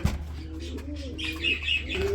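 Pigeons at a rural Bangladeshi pigeon market give soft, low cooing with a few brighter chirps, close by over a steady crowd murmur.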